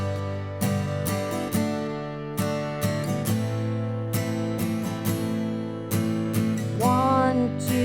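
Strummed acoustic guitar chords for a song, played in a steady pattern with an extra upstroke in each beat, loud and close with sustained ringing harmonics and no talking.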